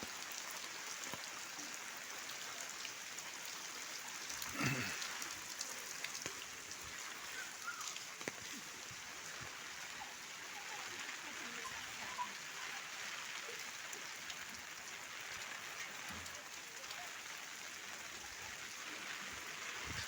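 Steady rain patters on a hard village street in Bhor, a constant hiss with scattered drips, soft and even throughout with no voices.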